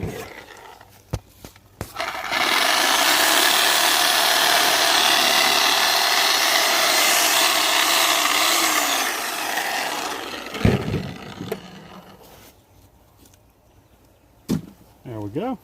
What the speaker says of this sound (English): Sawzall don't cut the meat very well.